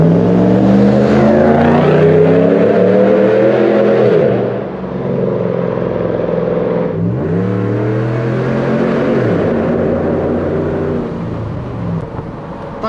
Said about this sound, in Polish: Tylko będzie towarzyszyć nam dźwięk V8